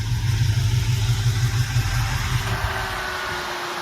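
A small block V8 swapped into a 1975 Chevy LUV pickup idles steadily with a low, lumpy rumble, close and continuous, with a constant cooling-fan hiss over it.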